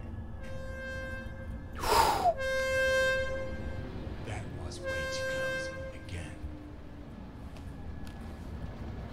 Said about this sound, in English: Apparently an out-of-service train running past is, not that big of a deal